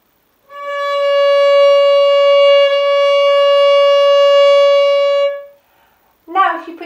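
One sustained violin note played with the second finger, bowed steadily for about five seconds, bright and clear, then a short spoken remark afterward.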